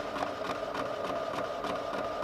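A vinyl cutter slices a Magic Flock template at force 18 and speed 60 with a 60-degree blade, giving a steady mechanical whir with rhythmic, repeated carriage strokes throughout.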